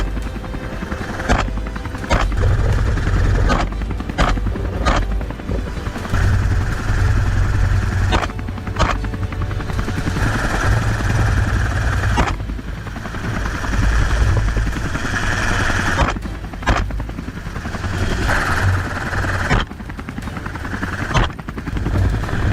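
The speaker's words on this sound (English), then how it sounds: "Thomas signaled the pilot to expertly lower the helicopter." A helicopter is lowered toward a mountainside farm field, its engine and rotor roaring loudly and continuously at close range, with sharp cracks of gunfire cutting through the drone at several points.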